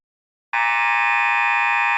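A basketball game buzzer blares suddenly, loud and steady, holding its harsh electronic tone for about a second and a half.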